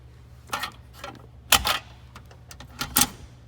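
Car gear shifter, newly set up just clearing the dash, ratcheting back through its positions in a few distinct close mechanical clicks spaced roughly a second apart, with no talking.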